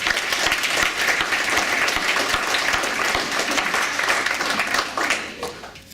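Dense applause from the audience at an evening talk, loud and continuous for about five seconds before fading out at the end.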